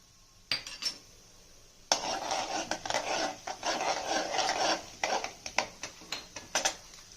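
Mustard seeds, urad dal, chana dal and cumin sizzle and crackle in hot oil in a home kitchen, a dense spattering hiss breaking into sharp pops and sputters that come in bursts, close and fairly loud, with no talking.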